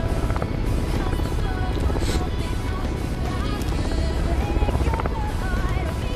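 A helicopter in a shooter video game gives a steady rotor drone throughout, mixed with wind-like rushing noise and faint talk.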